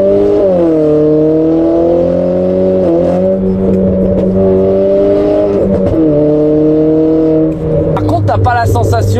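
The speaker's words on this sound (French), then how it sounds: "Faire une petite accélération du Seigneur." Strong, sustained acceleration from a 260 hp Renault Clio RS Trophy Stage 1, heard loud from the cabin as the engine note rises, dips briefly at a shift, climbs again and settles while voices talk near the end.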